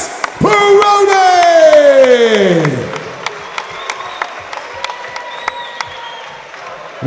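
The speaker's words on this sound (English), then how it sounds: "Once again, big round of applause for a very brave runner-up, Paul Evans." Audience applause and crowd noise at a mixed martial arts event after a fight ended by rear naked choke, steady clapping for several seconds under a loud announcer's voice, then fading to scattered claps and murmurs.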